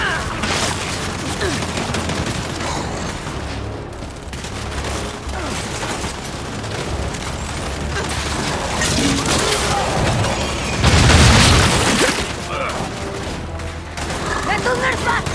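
Turret fire in Gears of War 5 battle, sustained rattling gunfire with scattered booms and a loud crashing burst midway, under excited shouted talk.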